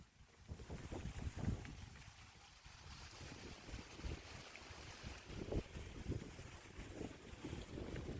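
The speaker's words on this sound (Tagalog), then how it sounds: "ang lakas ng hangin" Strong wind buffets the microphone on a seaside walk in Whampoa, Hong Kong, with heavy, gusty rumbling, loud and continuous, with rushing air noise throughout.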